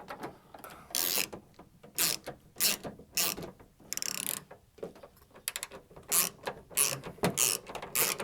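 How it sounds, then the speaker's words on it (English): A hand tool turns a T30 screw on the exterior handle of a 2008 second-generation Toyota Prius, giving a quiet, close series of irregular ratcheting clicks in short bursts. "I'll hand tighten that T30 again."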